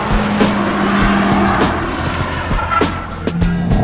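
A car makes a foot-to-the-floor panic stop with ABS engaged, tires squealing in loud pulsing bursts as the brakes rapidly cycle on and off, close and continuous over engine and road noise.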